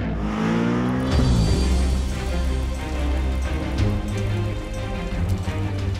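A driverless Audi race car on track accelerates through curves, its engine loud and near, rising in a steady harmonic roar that dips and climbs with gear changes against broadband road and wind noise.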